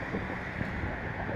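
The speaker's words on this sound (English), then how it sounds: "It's a little windy." Wind gusting across an open hilltop overlooking a city, a steady low rumbling buffet against the microphone, fairly faint and without other sounds.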